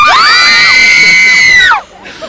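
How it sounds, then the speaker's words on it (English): Fans at a Johnny Depp film shoot in Crown Point, Indiana let out a loud, sustained high-pitched scream together, held for nearly two seconds before it cuts off abruptly. "Let's hear that scream."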